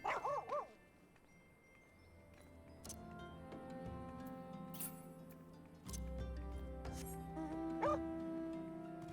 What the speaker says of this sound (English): Okay, that is a dog.